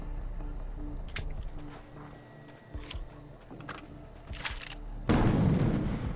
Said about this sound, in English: Boy, that was a really effective explosion.